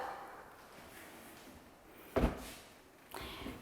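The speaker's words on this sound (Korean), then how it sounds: "이 문을 열면 드레스룸이 나오겠죠?" A door in a newly furnished detached house in Namyangju swings open into a dressing room, giving one sharp close clunk followed by a softer knock a second later, over quiet room tone with no talking.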